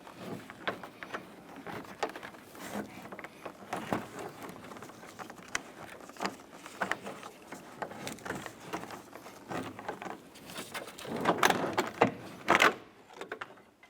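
Scattered plastic clicks, creaks and scraping knocks from a door trim panel on a 1994-2004 Chevrolet S-10 being pried loose, with a louder cluster of pops near the end.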